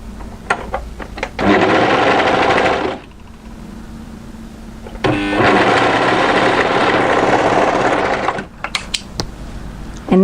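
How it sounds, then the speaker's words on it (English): An overlocker runs in two sustained bursts while serging the shoulder seam of a pleated maxi wrap dress, loud and close, with brief clicks and handling noises between the runs and no talking. "Overlock this seam here at the shoulder."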